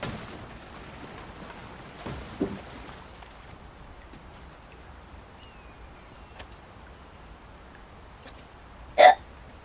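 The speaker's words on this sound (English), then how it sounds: "I got the hiccups." Hiccups in the video game Dragon's Dogma: a few sharp, isolated hiccups spaced several seconds apart in a quiet setting, with the last one loudest.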